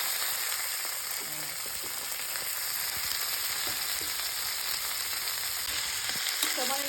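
Vegetables stir-frying for Filipino pansit give a steady, dense sizzle in a hot pan, with occasional scraping stirs and a brief clatter near the end, heard close up with no talking.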